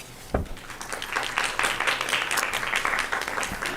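Audience members at a school board meeting applaud, a loose run of fairly close handclaps that picks up after a sharp opening thump and continues steadily.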